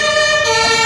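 A fire engine siren wails loud and close as the fire brigade arrives at a foam car-fire extinguishing demonstration at Interschutz 2015 in Hannover, a steady tonal blare filling the moment alone.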